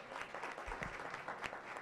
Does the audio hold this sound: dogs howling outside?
no